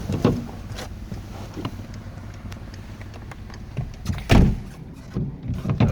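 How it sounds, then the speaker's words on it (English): A car drives along a road in Romania, with a steady low engine and road rumble heard from inside the cabin, broken by a few louder thumps and bumps from the body and tyres. "I'm driving, but I enjoy the ride."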